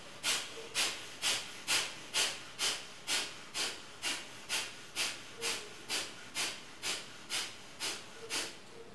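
Rapid breath of fire exercise during a home Pilates session: about sixteen sharp, evenly spaced nasal exhalations, roughly two per second, hissing and close, with no talking over them.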